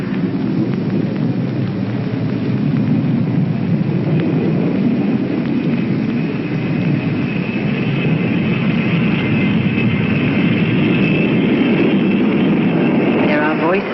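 Airliner engines of an Allegheny Airlines plane spooling up for takeoff, producing a loud, dense, steady roar with a faint rising whine throughout.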